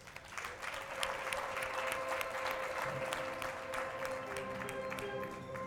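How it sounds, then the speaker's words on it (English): Steady applause from an awards dinner audience honoring recipients, a continuous wash of many hands clapping with a faint sustained tone running beneath it. "Please give them again a round of applause"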